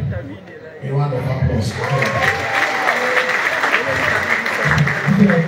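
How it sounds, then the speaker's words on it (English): Live comedy show crowd in Abuja applauds, clapping and cheering building under an MC's amplified voice. "Please, with a round of applause"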